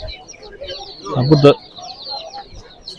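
Poultry at the Sabunçu market, with goslings, ducks and chicks for sale; one short, loud clucking burst from a bird rises near the middle over low market noise, with someone speaking briefly.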